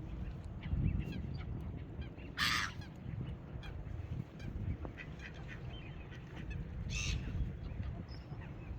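Geese and ducks honk at a pond on a rainy day, with white swans also present, scattered calls rising over steady low rumble and patter, a couple of sharper bursts standing out.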